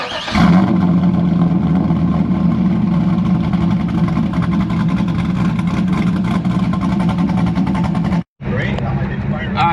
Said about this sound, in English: let's see if we can get a cold start.